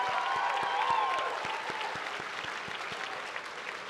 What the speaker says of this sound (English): Please join me in again applauding the achievements of Patricia, our PhD graduate.